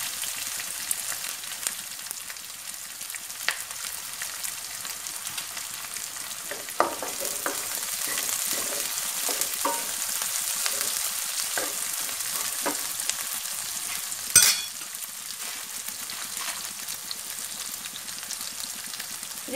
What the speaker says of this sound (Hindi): प्याज को अच्छे से सोटे करूंगी और इसी में मैं हरी मिर्ची डाल रही हूँ देखिए